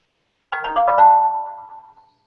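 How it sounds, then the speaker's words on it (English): A mobile phone ringtone plays alone, a short bright melodic phrase that rises in a burst of notes and then holds one sustained tone that fades away over about a second. "my phone is going off."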